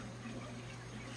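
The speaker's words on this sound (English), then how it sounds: "the water is flowing much slower now" Water runs slowly and steadily through a Toto toilet's fill valve during a flapper replacement, a soft, close, continuous trickle and hiss with no talk.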